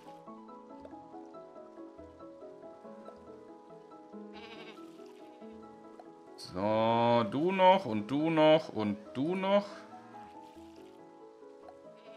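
Several goats bleat in loud, overlapping bursts inside a crowded animal hut in the Staxel farming game, following a calm stretch of music and someone talking.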